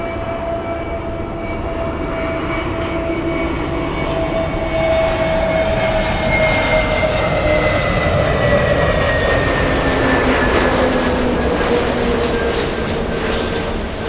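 An American Airlines jet takes off on runway 24 right at LAX, its engine roar steady and loud throughout, with a whine that slowly falls in pitch.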